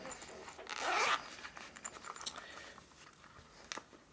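An earplug pouch zipper is pulled open in one quick, close zip, followed by soft rustling and light handling clicks as the pouch holding custom ACS earplugs is opened; no one speaks.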